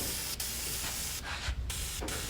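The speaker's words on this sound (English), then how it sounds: "And then you see we just kind of spray it on." Spray of movie paint onto a lampshade on a film set: loud, close, continuous hissing bursts with brief breaks between sprays, no voices.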